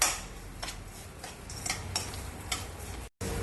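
A spoon stirs sugar into a hot mixture for Kerala paal puttu, giving light repeated ticking clinks against the pan, close and fairly soft, with a short cut near the end.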